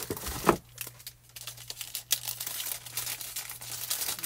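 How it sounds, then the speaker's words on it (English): Cardboard box pushed and shifted aside, giving a crisp crinkling scrape followed by soft rustling and light handling noises close by, with a steady low hum underneath. "move this box out of the way"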